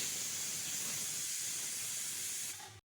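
Pressure cooker letting off steam while peas cook, a steady faint hiss that cuts off abruptly at the end.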